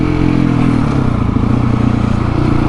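A motorcycle engine revs hard during a wheelie, a loud, close, throbbing drone that pulses steadily throughout with no talk.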